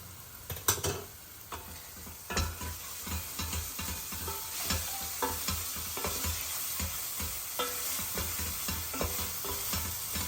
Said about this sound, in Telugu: కొద్దిగా ఉప్పు వేసి వేయించుకుందాం